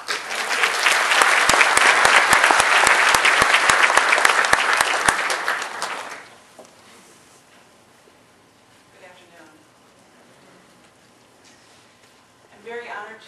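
Loud, dense applause from an audience at a regional health reform presentation greets a speaker for about six seconds, then fades into quiet room noise with faint murmurs.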